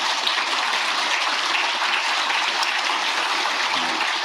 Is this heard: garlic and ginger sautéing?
no